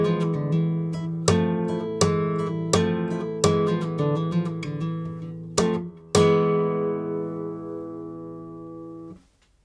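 Nylon-string flamenco guitar plays a soleá llamada phrase: a run of sharp strummed chords in a steady accented rhythm, then two final hits left to ring and fade, played solo and close.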